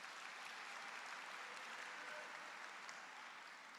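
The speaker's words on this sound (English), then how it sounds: "Let's give them a big round of applause." Audience at an engineering graduate recognition ceremony claps continuously, a dense, even burst of applause filling the room for a few seconds at moderate volume.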